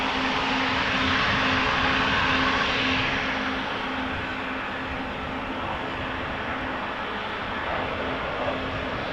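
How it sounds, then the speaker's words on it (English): A business jet taking off at Amsterdam Schiphol Airport, its broadband engine roar steady and fairly loud at first, then easing slightly as it climbs away, with a faint tonal hum running underneath. "Oh wait, something is taking off by the looks of it."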